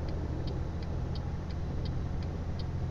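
A truck engine drones steadily under kick-down acceleration in Euro Truck Simulator 2, a low rumbling hum with a faint regular ticking, heard close and alone.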